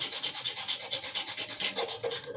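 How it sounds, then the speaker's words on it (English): Hand sanding on an old wooden screwdriver handle, a steady back-and-forth rasping scrub in even strokes, close and fairly quiet with no talking. "Sometimes it's the way to go, just, you know, hand sanding"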